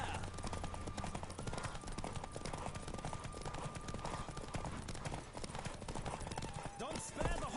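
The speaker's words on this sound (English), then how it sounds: "Don't spare the horse!" A horse gallops at speed in The Witcher 3, its hooves clattering in a rapid continuous clip-clop that fills the whole stretch, loud and close, under rushing wind and game noise.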